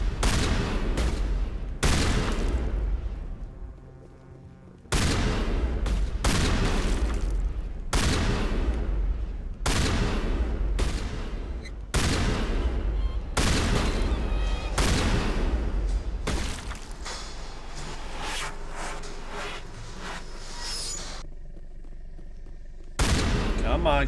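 Repeated heavy shotgun blasts in Mass Effect 1, about a dozen sharp loud booms spaced a second or two apart with decaying tails, some in quick pairs.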